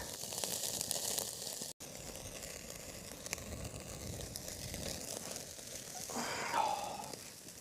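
Steak sizzles over a campfire in Kidland Forest, a soft, steady frying hiss that carries on quietly, close by and alone.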